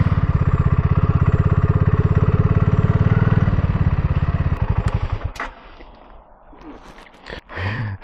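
A 2024 BSA 650 Goldstar single-cylinder motorcycle revs hard while riding, a loud steady engine drone with rapid firing pulses for about five seconds, then it drops off and leaves quieter wind and road noise.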